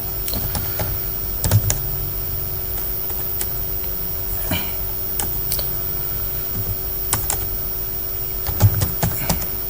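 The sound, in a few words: typing on a computer keyboard in MS Word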